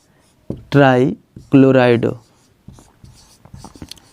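Writing on a board during a chemistry lesson on coordination compound names. Short, scratchy, tapping strokes follow two bursts of close speech.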